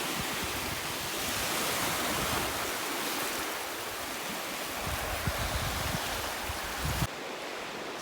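Waves wash steadily onto a long, hard-packed rippled sand beach on Lake Huron, a continuous broad surf hiss with no clear breaks and no voices.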